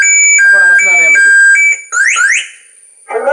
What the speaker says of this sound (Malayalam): വണ്ടിയിൽ നിന്ന് അലാറം അടിക്കും